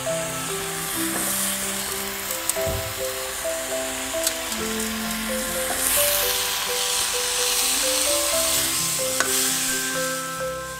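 Onion, cumin and tomatoes fry in a pan with a loud, continuous sizzle and occasional scraping stirs, while a steady background melody plays throughout.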